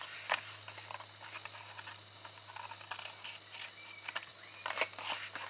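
Scissors trim the corners of a piece of cardstock at an angle, giving a handful of crisp, close snips spaced irregularly over a quiet background.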